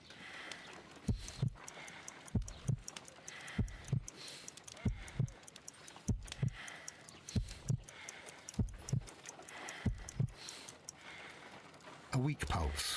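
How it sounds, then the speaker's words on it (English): Slow, weak heartbeat in the Sherlock Holmes: Crimes and Punishments video game, a pulse of around 50 beats per minute, with evenly spaced soft low thumps repeating throughout over a quiet background. "I need to concentrate and count the heartbeats."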